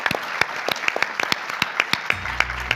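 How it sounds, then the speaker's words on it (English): Small audience at a panel of travel company CEOs applauding, individual hand claps sharply audible in a fairly close, uneven rhythm with a low hum entering near the end. "Please give them another round of applause."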